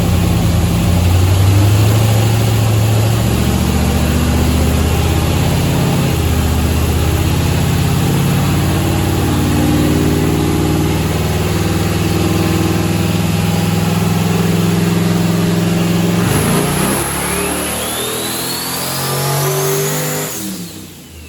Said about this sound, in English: This is essentially the same dyno pull as before, but there's 125 horsepower shot of nitrous.